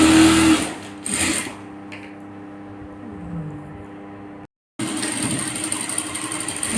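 A sewing machine stitches in short runs, a close buzzing whir that starts and stops, dropping to silence briefly before running steadily again.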